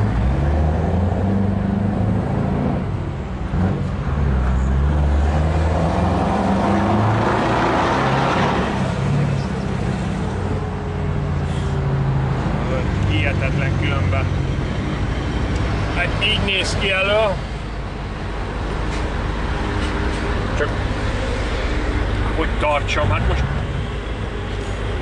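A deep, steady Scania V8 truck engine rumble drones throughout while people talk over it.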